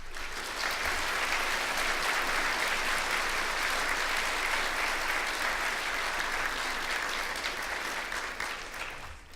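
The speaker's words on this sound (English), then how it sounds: "These people deserve a good round of applause" An audience at a business meeting of the ASFPM gives a round of applause, a dense, steady wash of clapping that carries on for about nine seconds and thins slightly at the end, with no one talking over it.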